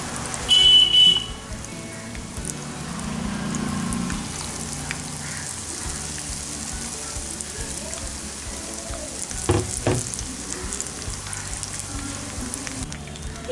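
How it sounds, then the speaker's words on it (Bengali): Stuffed Malabar spinach leaf fritters deep-fry in oil over a medium flame, giving a steady soft sizzle with a few brief clatters near the start and middle. "এগুলোকে আমি মিডিয়াম ফ্লেমে ভেজে নিচ্ছি।"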